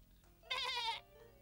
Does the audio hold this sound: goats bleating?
yes